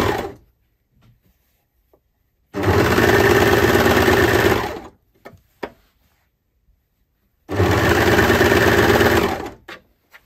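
Domestic sewing machine running a circular skirt hem around to the side seam, two sustained loud bursts of stitching of about two seconds each, separated by quiet pauses with small handling clicks.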